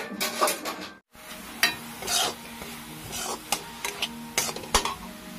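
Jaggery and grated coconut filling being stirred in a pan, a utensil scraping and clinking against the metal in irregular bursts with a brief pause near the start, close and moderately loud with no talking.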